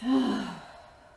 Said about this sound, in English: Exhale your breath.